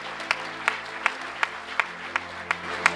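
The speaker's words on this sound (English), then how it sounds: "Let's give them a big round of applause." Audience applause at a sustainability award ceremony in Pune, heard as a run of evenly spaced, sharp claps about every third of a second over a quiet room with a low hum, more like one or a few people clapping in rhythm than a full crowd.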